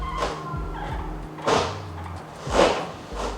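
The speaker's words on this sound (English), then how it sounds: "steering wheel squeaks. See if I can recreate it a little bit" An aftermarket car steering wheel gives repeated squeaks and creaky thumps as it is turned back and forth, several short bursts at close range, with no talk.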